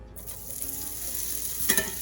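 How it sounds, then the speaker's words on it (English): Grease sizzles steadily in a hot cast iron pan, a bright continuous crackle with a brief louder flare near the end. "You might burn your hand from the sizzle."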